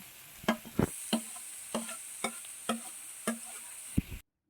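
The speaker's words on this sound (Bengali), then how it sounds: "ঘিটা গরম হলে কেটে রাখা গাজরগুলি ভাজার জন্য কড়াইতে দিয়ে দিলাম" Chopped carrots fry in ghee in a wok for carrot halwa, with a faint hiss and a rhythmic series of about eight sharp scraping stirs close by.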